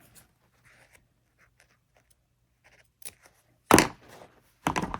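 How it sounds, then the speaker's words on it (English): Fabric scissors make two short, sharp snips while a tote bag is cut, with a faint rustle of cloth between them and near silence before. "I'm going to come right here to do my little snip"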